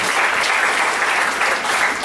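Congregation at a Sunday morning church service claps enthusiastically, a continuous dense wash of applause with no speech over it.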